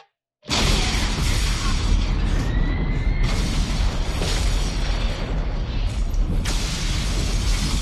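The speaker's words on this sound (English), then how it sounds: "we get one of the great practical explosions of all time" A huge, sustained roaring blast from a practical film explosion in Terminator 2: Judgment Day erupts after a brief silence, rumbling deep and loud for several seconds with crackling debris and a faint rising whine.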